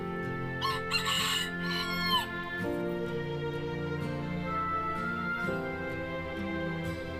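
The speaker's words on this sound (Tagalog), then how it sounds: "So this is still a bantam chicken" A bantam chicken crows nearby, followed by soft clucking over a steady background hum.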